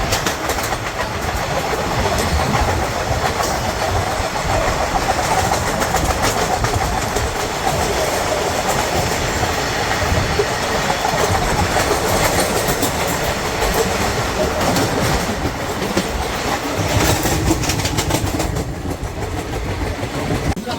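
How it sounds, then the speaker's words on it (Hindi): A local commuter train passes close by while riding aboard the 13175 Kanchanjunga Express from Sealdah toward Guwahati, producing a loud continuous rumble with rhythmic clickety-clack of wheels on rail joints. "अभी लोकल ट्रेन पास हुआ"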